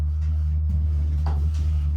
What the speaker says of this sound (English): that weird whirring noise you can hear is the diesel stove kind of starting up